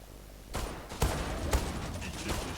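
Three separate sharp shots from a Desert Eagle pistol in the video game Zula, spaced about half a second apart, punchy and fairly near over a low background hum.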